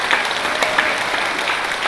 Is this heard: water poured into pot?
no